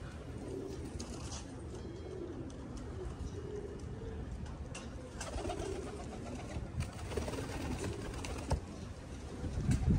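Racing pigeons cooing nearby in a loft in low repeated burbling calls, with occasional wing flutters and soft rustling over a constant background hum.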